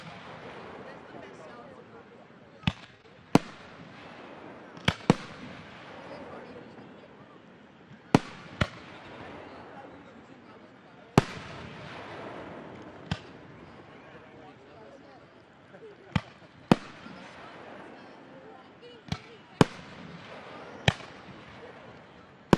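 Fireworks show at a fire muster parade celebration in Burnsville, with sharp distant bangs recurring irregularly over a steady crowd murmur, some bursts louder and closer than others.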